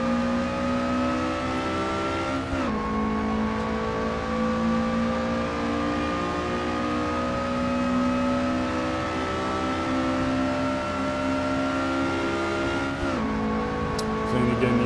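A Lotus Elise SC RSR race car engine revs hard around the Mount Panorama circuit at Bathurst, a loud sustained whine climbing steadily through the gears, with two sharp shifts breaking the rising drone.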